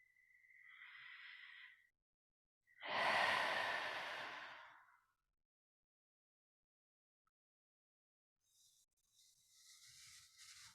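Slow, full breaths during a morning yoga practice, with a soft inhale, then a long audible exhale, a silent pause and another gentle breath, close and quiet.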